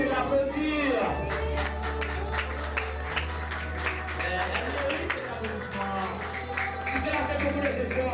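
Guests at a Haitian wedding celebration in Brazil applauding the bride, scattered clapping and crowd noise mixed with a voice talking and background music.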